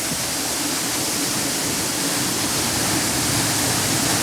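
Bhalkhet waterfall near Vyara rushing in a steady, loud, continuous roar of falling water that fills the whole stretch without a break.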